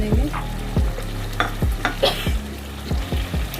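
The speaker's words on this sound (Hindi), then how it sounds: "और इसको अच्छे से मिक्स कर लेते हैं।" A spiced quail mixture with a little water is stirred in a pan, with repeated scraping strokes over a light sizzle of frying.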